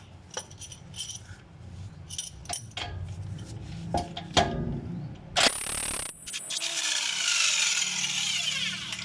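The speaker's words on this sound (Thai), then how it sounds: "โอเคเดี๋ยวทำการคลาย น็อตตัวนี้ออก" Loosening a size 19 nut on the rear shock absorber of a Toyota Altis: scattered metallic clicks and clanks from hand tools, then a loud, continuous power-tool whir takes over for the second half, close by.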